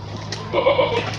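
Goats on a goat farm bleating in a short, wavering cry over a steady low background hum, moderately close, with no talking.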